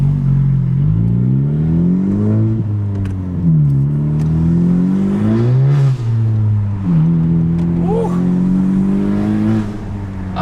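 A 2018 Honda Civic Si 1.5T with a Cobra cold air intake revs repeatedly, its engine tone rising and falling in several sweeps with an audible intake whoosh and a whistling rise near the end, loud and close.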